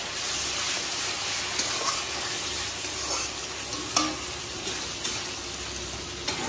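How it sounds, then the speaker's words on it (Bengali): Spice paste for a Bengali rui posto fish dish sizzles loudly and steadily in oil after a splash of water goes in. Occasional soft scrapes from stirring come through close up, and nobody talks. "একটু জল দিয়ে দেবো, জল দিয়ে কষাবা।"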